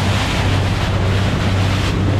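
Sea waves wash steadily around a moving boat off Claver, Surigao del Norte, with a constant low engine drone and heavy wind buffeting the microphone throughout.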